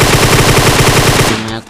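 M416 assault rifle fire in PUBG, a loud sustained automatic burst of rapid evenly spaced shots lasting over a second before cutting off into a brief fading tail.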